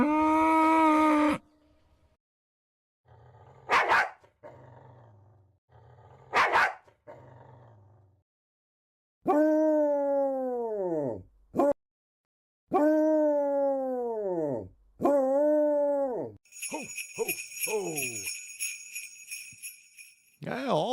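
Dogs at a ballpark let out sharp barks and long, drawn-out howls in separate bursts with quiet gaps between them, close and loud, ending in a shrill, tonal whine.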